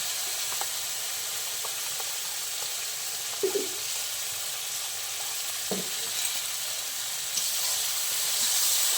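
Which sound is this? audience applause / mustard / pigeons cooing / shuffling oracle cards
mustard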